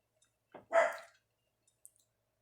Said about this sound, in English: Got dogs barking in the background.